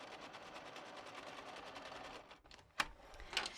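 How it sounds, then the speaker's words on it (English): A sewing machine stitches on a scrap of fabric, a quiet fast rattling hum running for over two seconds, then stopping, followed by a couple of sharp clicks near the end. "we'll just practice sewing on our scrap here a little bit"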